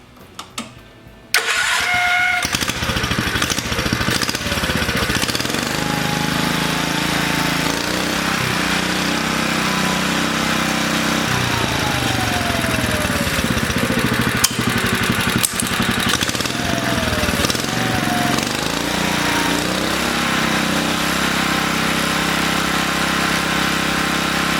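A repowered Cushman Trailster cranks briefly, catches and then runs at a steady mid-pitched idle close by, with small revs and rattles over nearly twenty-five seconds and no talk.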